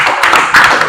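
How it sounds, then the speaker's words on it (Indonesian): Classroom audience of students clapping together in a short, loud burst of dense, irregular claps heard up close. "Tepuk tangan untuk kita semua."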